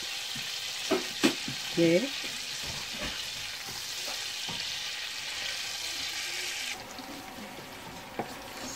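Green cardamom dropped into 150 grams of hot butter with a little oil, giving a steady close sizzle and frying hiss with a few soft clinks of a spoon, a single brief word spoken.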